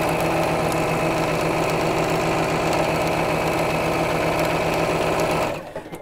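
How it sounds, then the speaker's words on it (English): A sewing machine stitches across lines on a Valentine mug mat with a longer stitch length, running in a fast, steady, loud whir for several seconds before stopping abruptly near the end. "and then sew across all the lines"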